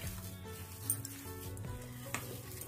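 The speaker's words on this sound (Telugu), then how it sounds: "ఈ విధంగా స్మూత్ గా కలుపుతూనే ఉండాలి షుగర్ కంప్లీట్ గా కరిగినంత వరకు" Sugar melting in a pan for chhena poda sizzles softly while a spoon stirs it, a steady close-up crackle broken by a few scraping clicks.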